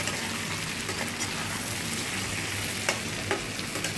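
Pointed gourd and pumpkin fry in an oily pan with a dense, continuous crackling sizzle, close and even, with a few sharp spatters and light stirring taps, no talking.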